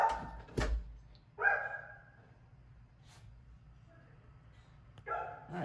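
Pit bull-type dogs shut in another room bark in a few separate bursts, muffled and moderately distant, with quiet pauses between them and no speech over the barking.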